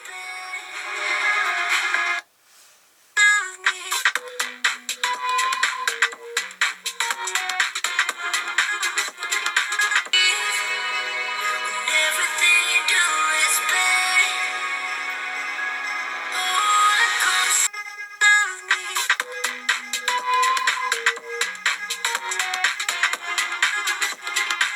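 Music plays through the single bottom-mounted speaker of a Samsung Galaxy M52 5G phone, bright and continuous for about twenty-five seconds with a couple of brief pauses and thin, bass-light tone.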